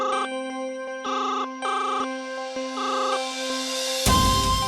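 A phone ringtone plays a looping electronic melody in repeated bursts over a steady tone, ringing on with no answer until a sudden burst of noise cuts in at the end.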